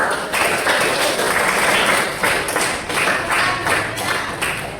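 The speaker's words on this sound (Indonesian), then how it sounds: "tepuk tangan buat kelompok" Sustained applause from a group, dense clapping filling the room for several seconds with a few louder taps, no talking.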